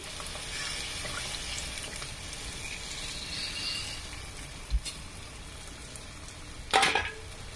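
Eggs for anda bhurji sizzle steadily in a pan while being stirred, a soft continuous frying hiss with a few sharp scraping knocks of the spatula, the loudest near the end.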